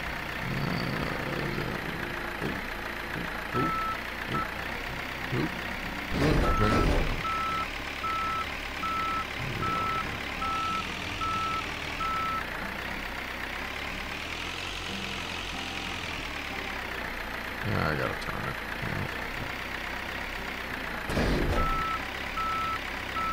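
A forklift in the Forklift Simulator 2023 video game reverses, sounding a steady, repeating electronic beep over a constant low engine idle, with a few louder thumps along the way.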